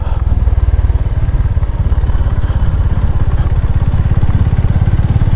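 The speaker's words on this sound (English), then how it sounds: "you can hear the sound of the engine without wind noise" A Honda GB350 motorcycle engine putters steadily at low speed, its rapid, even firing pulses close and loud throughout, with no wind noise.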